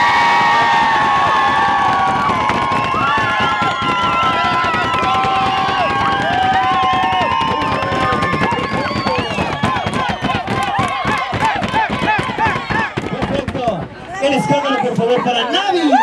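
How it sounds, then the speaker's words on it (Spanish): A beach crowd at Playa Zicatela cheers, shouts and claps loudly for a bikini contestant at a November festival in Puerto Escondido, a dense sustained roar with whistles and rapid applause building toward the end under an announcer's voice. "Vamos por aplausos, por favor, chicos. Por escándalo en esta ocasión en Playa Zicatela, que salga el rugir para Melanie."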